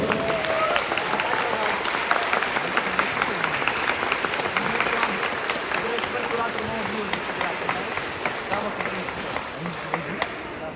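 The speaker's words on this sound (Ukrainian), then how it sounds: "Ваші оплески Олександр Сапронов!" An audience claps for a history teacher as he is welcomed to the stage at a private school event: dense, sustained applause filling the room, steady and fairly close, with faint voices mixed in.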